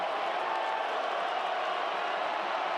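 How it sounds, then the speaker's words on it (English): A college football stadium crowd at South Florida vs Memphis produces a steady, dense wash of cheering and roar, constant and fairly distant, with no single voice standing out. "Crowd's getting into it a little bit"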